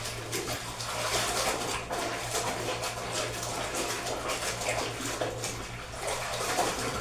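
Water splashing and sloshing steadily as a person bathes, a continuous wet wash with small irregular splashes at moderate level, a low steady hum running underneath throughout.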